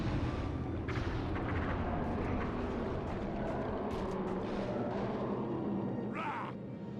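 Fireworks fired at the Crusher in the video game Sly 3 boom and rumble continuously, with crackling bursts over a dense, loud low roar.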